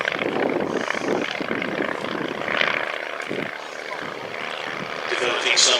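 A vintage aircraft's five-cylinder Genet radial propeller engine of about 105 horsepower drones steadily and loudly throughout at an airshow, a rough continuous rumble that swells slightly at the end.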